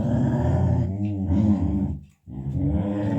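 A dog growls in a long, continuous low rumble, then breaks off for a brief silence before growling again, close and fairly loud throughout.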